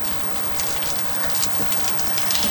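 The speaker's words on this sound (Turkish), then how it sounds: "Odun ateşimiz yanıyor her gün." A wood fire burning at an Adana street-food kokoreç grill, giving a steady crackling hiss with scattered sharp pops, moderately close, and no voices over it.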